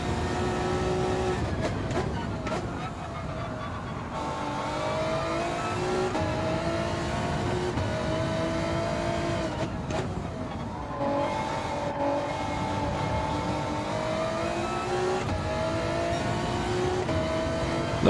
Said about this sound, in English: That car is impressively quick.